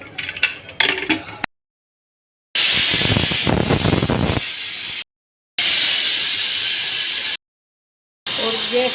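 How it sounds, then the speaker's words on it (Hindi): A pressure cooker of chole vents steam with a loud, sustained hiss, repeating in long close bursts separated by silent gaps. "इसमें लगा लूँगी सीटी"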